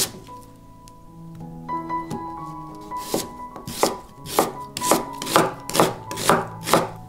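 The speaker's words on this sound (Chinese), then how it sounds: "半颗白洋葱切成细丝" A knife on a cutting board slices half a white onion into thin strips, first a few soft cuts, then a steady rhythm of crisp, close chopping thunks.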